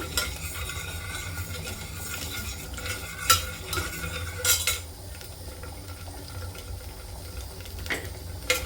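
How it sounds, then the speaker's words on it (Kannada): Cashews roasting in ghee in a pan while being stirred, soft sizzling with scraping stir strokes and a few sharp clinks of a spoon against the pan, close and fairly quiet, no voices. "ನಾನು ಸ್ವಲ್ಪ ತುಪ್ಪದಲ್ಲಿ ಗೋಡಂಬಿಗಳನ್ನ ನಾನು ಹುರ್ಕೋತಾ ಇದ್ದೀನಿ"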